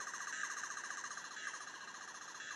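A warbling electronic sci-fi tone repeats in fast pulsing cycles, high-pitched and wavering, faint and steady throughout.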